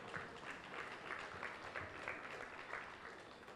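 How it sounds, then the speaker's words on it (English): An audience at a town hall meeting for returned diaspora gives a steady round of applause, heard faint and distant at an even level throughout. "let's take some time and give Her Excellency and her team and the Office of the Diaspora a round of applause"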